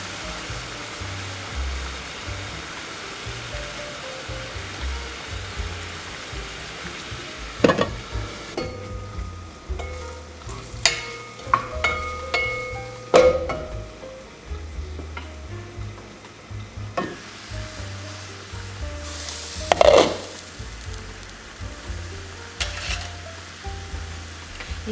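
Longanisa sausages sizzle and fry in a pan for a Filipino breakfast, a steady crackling bed broken by a few sharp clinks and taps of a utensil.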